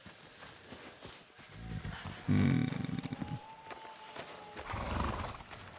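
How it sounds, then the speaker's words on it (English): In the video game Ghost of Yotei, a horse gives a loud close whinny after a stretch of rhythmic hoof clopping, then more hooves and snorting follow, with a brief murmured voice. "Choose a horse."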